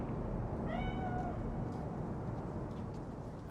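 A cat meows once in the video game Cyberpunk 2077, a short rising-and-falling cry heard over a steady, loud background rumble.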